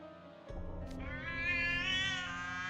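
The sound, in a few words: cat meow sound effect in Twisted Wonderland video game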